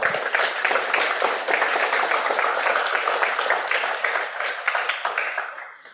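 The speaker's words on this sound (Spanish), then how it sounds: "Aplauso para la Cami." Audience at a film festival screening applauding the speaker, a dense round of clapping that holds steady and then fades away at the end.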